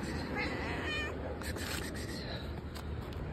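A cat meows faintly a couple of times, short high calls close by over a constant background hiss.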